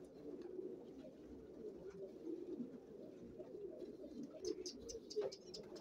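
Racer pigeons coo steadily in a low, soft, continuous murmur on a rooftop, with a few faint higher chirps near the end.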